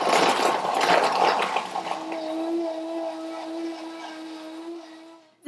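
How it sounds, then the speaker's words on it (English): A blender grinds cake into fine crumbs, a busy whirring burst that settles into a steady motor hum with a sustained tone before cutting off abruptly. "I'll just blend this up until it forms nice and fine crumbs"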